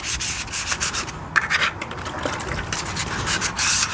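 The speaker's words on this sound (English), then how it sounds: "this 320 grit is taking that putty down really quickly" 320 grit sandpaper rubs over putty on a rusty vintage Simplicity tractor seat, a loud, close, steady rasping scrub with short strokes and brief pauses.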